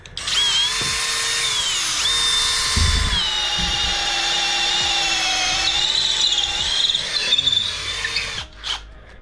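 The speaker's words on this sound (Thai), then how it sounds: "เดี๋ยวลองมาเจาะกันครับ ไม้ที่ผมเจาะก็คือเป็นไม้สนทั่วๆไปนะครับ" A 20 V Puma PM-245BL brushless cordless drill whines continuously at high speed, pitch dipping as it bores through pine wood about 10 cm thick, with a brief pause before it stops at the end.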